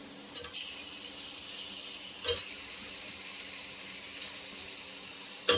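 Half a kilo of chicken added to hot oil and fried masala in a pan for dum biryani, a faint steady sizzle with a few soft clinks and stirring knocks, with no talk.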